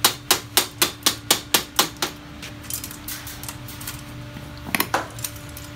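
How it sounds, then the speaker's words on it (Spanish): A bicycle crankset chainring is tapped into place with about nine sharp, close metallic knocks in a quick even rhythm. A few quieter clicks and two further taps follow after a pause. "Le damos un golpecito también."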